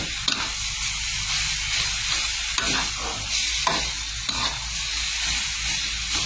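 Jackfruit stir-fried with curry paste in a pan gives a steady close sizzle, broken by repeated scraping stirs of the spatula and a brief hiss, with no talk over it.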